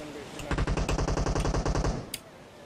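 A burst of fully automatic rifle fire in the mobile battle royale PUBG Mobile, about fifteen rapid, evenly spaced shots for around a second and a half, loud and close, followed by a single sharp click.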